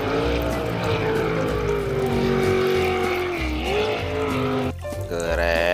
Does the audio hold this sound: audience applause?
no